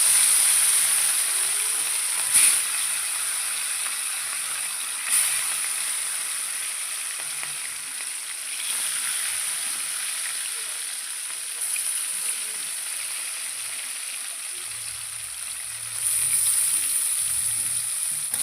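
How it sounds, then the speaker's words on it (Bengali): Rohu fish pieces shallow-frying in oil in a wok, a steady soft sizzle running throughout with a few brief louder pops and crackles, close and without talk. "এবার মাছগুলোকে হালকা ভেজে নেব।"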